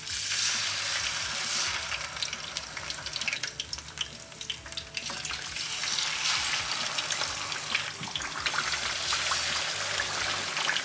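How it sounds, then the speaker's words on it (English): Fish fries in hot oil for Senegalese thieboudienne, a continuous crackling sizzle at moderate volume that rises and falls slightly, with no talking over it. "We're now going to fry the fish."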